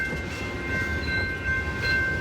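A train arrives at the Comic Con station in San Diego with a steady loud rumble of rail cars, a high sustained squeal or whine above it, and no voices.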